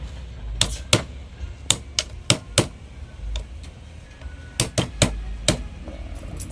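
Sharp metallic hammer strikes on an alternator stator coil being rewound ring out in irregular bursts, some in quick pairs, loud and close over a low background hum.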